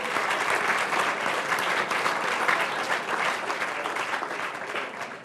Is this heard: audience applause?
yes